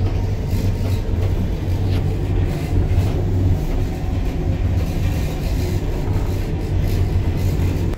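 A steady low rumble fills a moving Amtrak business class carriage, with constant rail noise and faint rattles throughout, no voices.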